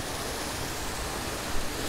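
A small waterfall in Luang Prabang, Laos, during the dry season gives off a steady, even broadband rush of falling water, with no voices over it.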